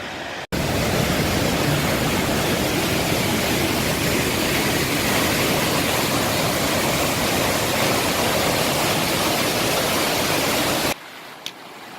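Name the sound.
waterfall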